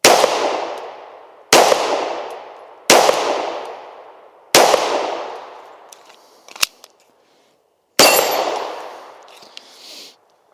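A Sig P365 X Macro pistol fires five sharp, loud shots outdoors at distant targets, spaced about one to two seconds apart, each crack trailing off into a short echo, with faint clinks between them.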